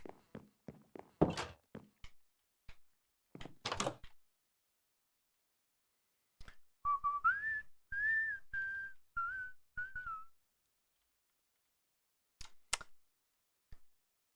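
A person whistles a short melodic tune of several rising and falling notes, close and fairly quiet, between bursts of computer keyboard and mouse clicking in an otherwise silent room.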